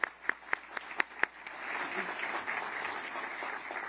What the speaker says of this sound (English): Let's give another round of applause for Governor DeSantis.